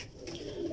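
A Lahore breed pigeon gives one short, soft, throaty coo, heard alone.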